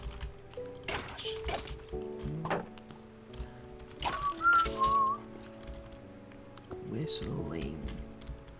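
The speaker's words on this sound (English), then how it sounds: "Whistling" Someone whistles a wandering tune up close, with sustained notes and short phrases, over quiet computer keyboard clicks and occasional light thumps.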